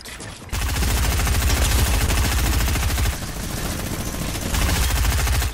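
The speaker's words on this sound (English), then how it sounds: "The drum gun is back, but it's like in a different version." Rapid, sustained automatic drum gun fire in Fortnite Chapter 2 Season 2, loud and continuous for about five seconds with a brief dip midway, no talking.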